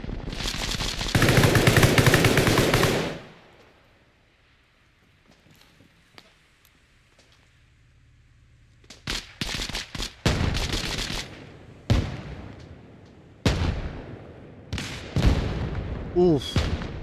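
Bursts of automatic and single gunfire in a 12-versus-12 ranked match on the Barzan map, a loud volley first, then a quiet gap, then a run of sharp close shots.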